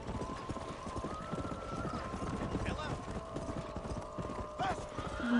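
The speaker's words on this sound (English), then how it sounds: "There's a horse." Horse hooves clip-clopping in Red Dead Redemption 2, a steady rhythmic patter of hoofbeats with a brief whinny, heard under game ambience.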